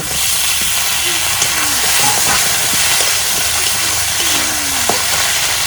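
Pieces of taro sizzle and hiss loudly in hot oil in a pan while a silver carp curry is being cooked, a steady bright frying crackle with occasional stirring clinks, no talk.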